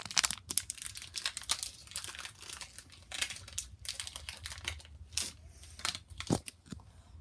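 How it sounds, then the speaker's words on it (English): Scissors snipping and crinkling through a plastic Pokémon Sun and Moon booster pack wrapper, with busy rustling and clicking close by and no talking. "I'm just gonna use my sharp and handy dandy scissors."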